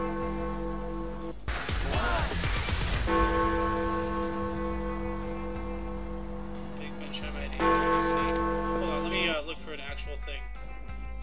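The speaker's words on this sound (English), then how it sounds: "That's my doorbell chime." A doorbell chime plays the Big Ben melody in sustained, overlapping bell-like tones that ring out and decay, with people talking over the chime throughout.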